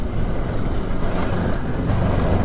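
Engine of a four-stroke work sled snowmobile while riding in the Talkeetna Mountains of Alaska, a steady, fairly quiet drone blended with constant wind rush, continuous and close with no talking.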